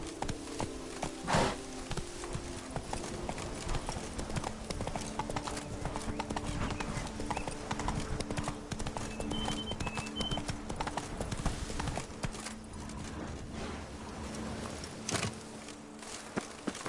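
Roach, Geralt's horse in The Witcher 3: Wild Hunt (Blood and Wine, PS4), gallops with a steady, close clip-clop of hooves that runs the whole time over a busy game soundscape, with a faint voice at times.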